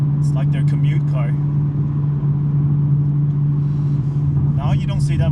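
A BMW M3 with a six-speed manual, on a relaxed Sunday morning drive, holds a constant low engine and exhaust hum from start to end while a man chats over the cabin drone.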